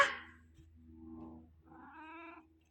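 A sulky cat meows twice, the second call longer and rising, close by with a low steady hum underneath and no talking.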